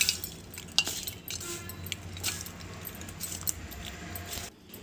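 Jaggery and cardamom powder are mixed in a bowl, giving a run of irregular metallic clinks and scrapes of a spoon against the vessel, close and fairly loud, with no talking.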